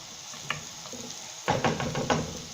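Bourek pastry fries in shallow oil in a pan, a soft, close sizzle broken by a few brief stirring scrapes and light knocks, with no talk.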